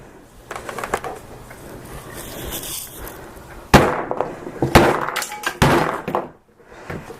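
A hammer strikes the display of an HTC One M8 smartphone in a durability test, several sharp loud cracks and thuds spaced irregularly, with fainter tapping between the heavier blows.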